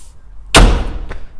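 A ZSR off-road vehicle trail door swings shut with one sharp, loud slam up close, followed by a fainter secondary knock as the latch settles.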